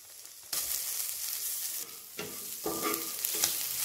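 Garlic prawns with chopped green chillies, salt, black pepper and chilli flakes fry in a pan, a steady loud sizzle broken by a few bursts of stirring and scraping, with no voices.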